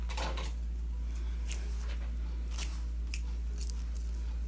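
A few quiet, crisp snips of scissors cutting faux locs hair, spaced irregularly over a steady low hum.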